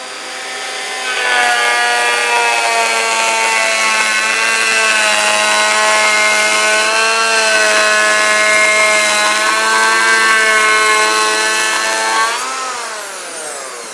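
A Festool EHL 65 EQ electric planer takes a 2mm pass along a wooden board. It gives a loud, steady, tonal whine that holds for about eleven seconds, then spins down at the end, with no talking over it.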